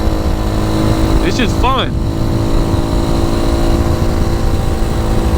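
Steady 2020 RPS Magician motorcycle engine drone while riding, a continuous mid-level hum running throughout with someone talking over it near the start.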